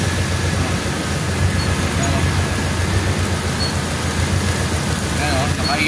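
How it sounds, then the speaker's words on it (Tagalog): Heavy rain pours down on a road with cars passing, a loud, dense, continuous wash of noise that stays steady throughout. "Malakas ang ulan dito eh, oh."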